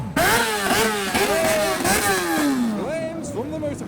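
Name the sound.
motorcycle engine revving at a car meet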